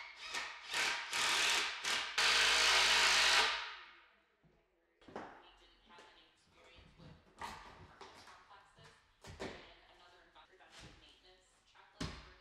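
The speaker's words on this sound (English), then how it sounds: "let's just listen to the sweet, sweet sound of the drills." Power drills drive long lag bolts into a wooden stair handrail, loud bursts of whirring and grinding near the start, then shorter, scattered bursts of drilling and knocking at closer range with quieter gaps between.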